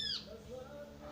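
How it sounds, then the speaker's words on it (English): A bird calls close by, a sharp squawking cry at the start that falls away into a quieter background with soft tonal traces. "as you can see in this paradise, we have birds. He comes to talk to me sitting right there"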